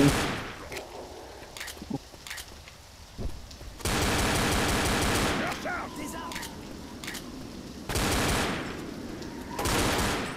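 Gunfire in the zombie video game Left 4 Dead, with a pistol that fires two rounds per shot, comes in loud dense bursts between quieter stretches of scattered clicks and game noise, with no talk over it.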